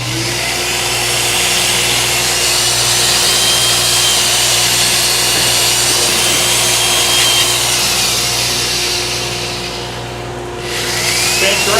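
A power sander whirs steadily at high speed, loud and close, briefly dipping before spinning back up near the end.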